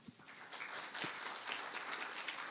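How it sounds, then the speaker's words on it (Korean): Audience applause welcoming a Hyundai battery system design team leader onto the stage at a Battery Day 2022 technical conference, a dense wash of clapping that holds steady at moderate distance throughout, with no talk over it. "박수로 맞아주십시오."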